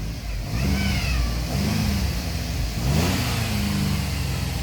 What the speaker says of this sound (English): Look at it idling like that.